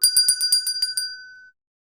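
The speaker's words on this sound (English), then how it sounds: "be sure to hit that notification bell" A bright notification bell sound effect rings in about eight rapid, evenly spaced dings, then one clear tone lingers and cuts off to silence.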